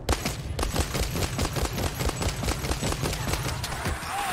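Rapid repeated bursts of gunfire from a weapon with explosive ammunition in World War Z Aftermath, in a fast, steady rhythm, close and loud, firing continuously for several seconds with punchy impacts.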